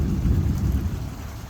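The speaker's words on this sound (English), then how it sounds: "as you hear the thunder in the background" Thunder rumbles low and heavy over steady rain falling outdoors in a backyard, the storm sound continuous and fairly loud throughout with no voices.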